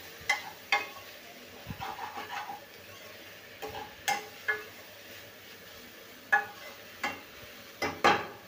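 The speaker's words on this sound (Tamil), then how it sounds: "இப்போ எடுத்து வச்ச புதினா இலைகள் அதையும் சேர்த்து வதக்கலாம்" Mint leaves are stirred and sautéed in a pan for soya chunk dum biryani, a quiet low sizzle punctuated by intermittent spatula scrapes and clinks against the metal pan, with no voices.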